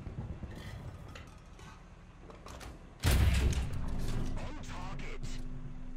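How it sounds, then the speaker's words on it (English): Tank cannon fire from a CV90 105 TML in War Thunder realistic battles, one loud heavy blast partway through followed by a rumbling decay, over steady engine and battle noise with a voice talking. "I keep shooting there, we'll get him."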